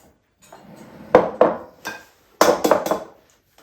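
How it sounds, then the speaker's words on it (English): Two eggs beaten in a bowl for an apple cake: a handful of quick clinking strikes of utensil against bowl, close and crisp, first two separate taps, then a fast burst of three or four, with no talking. "Now I'm going to beat the 2 eggs."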